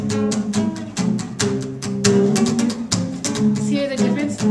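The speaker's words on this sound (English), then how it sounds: "It's when you strum, but you're literally muting the strings of the guitar by putting your palm here." Palm-muted strumming on a guitar, a run of short, choppy, damped chord strokes in a quick steady rhythm, played close and alone with no talking.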